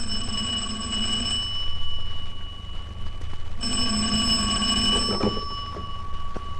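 A telephone bell rings in two long electronic trills separated by a short gap, loud and close, in a quiet room.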